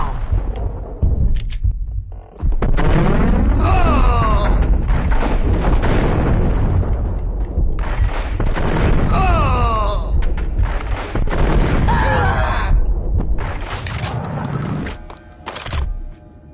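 A big explosion in the video game Max Payne, a loud booming blast with rumbling debris followed by several more heavy bursts and distorted groaning effects over about sixteen seconds.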